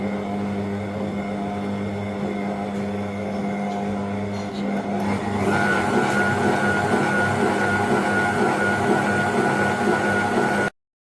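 Electric mixer beating cake frosting in a bowl, a steady close motor whine with a droning hum that grows slightly louder and harsher partway through, then cuts off abruptly at the end.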